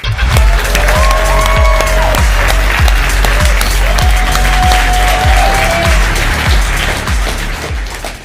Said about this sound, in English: please give a big round of applause for Swaroon Sridhar